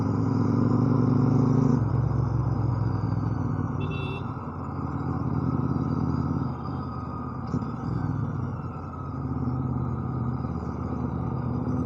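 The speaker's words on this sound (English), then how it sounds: "I just did a downshift while performing rev match" A motorcycle engine hums steadily, its tone dropping and shifting as it downshifts with a brief rev-matching blip, heard from the rider's position with constant wind and road noise and no talking.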